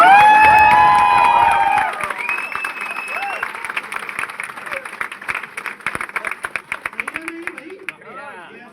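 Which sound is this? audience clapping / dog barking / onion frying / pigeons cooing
audience clapping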